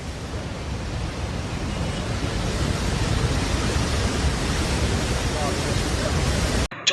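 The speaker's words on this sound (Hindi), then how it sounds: "पहाड़ पर पानी और पत्थर के प्रहार को देख" Floodwater and rocks crash down a mountainside in a loud, steady roar of rushing water and tumbling debris that fills the whole clip, ending abruptly.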